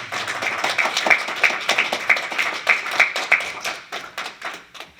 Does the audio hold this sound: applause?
yes